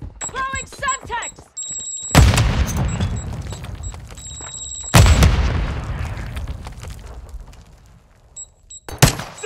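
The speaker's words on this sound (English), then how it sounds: "Blowing Semtex!" Semtex grenade blasts in Call of Duty Modern Warfare II, two loud booming explosions that roll off into long rumbling decay, followed by a third sharp blast, with in-game radio chatter and beeps between.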